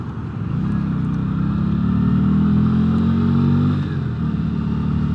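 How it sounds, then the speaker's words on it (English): A 2023 Keeway RKV125 motorcycle pulls away, its exhaust note swelling steadily into a smooth mid-pitched drone before easing off near the end, heard close and alone. "you pull away, you get a nice note from the exhaust"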